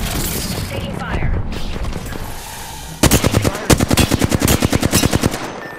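Rapid automatic gunfire in a first-person shooter game: after a few seconds of muffled rumble, a close, loud string of quick bursts rattles in steady rhythm to the end.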